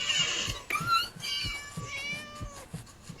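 A cat in a video game meows loudly and repeatedly, several drawn-out, insistent cries in quick succession with a few soft bumps beneath them.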